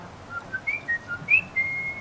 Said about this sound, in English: This, we managed to do it so the phone whistles.